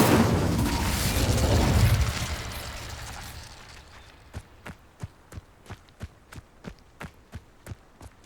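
An Incendio fire spell in the Hogwarts Legacy video game: a loud roaring whoosh of flame that fades out, followed by a steady series of sharp, evenly spaced footsteps.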